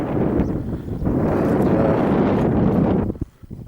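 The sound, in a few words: wind blowing on a mountain pass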